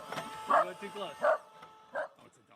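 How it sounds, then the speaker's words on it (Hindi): A dog barks at a robot, giving several separate barks at uneven gaps of under a second in a quiet setting. "जितनी भी देर कुत्ता इस रोबोट के सामने रहा वो भौंकता"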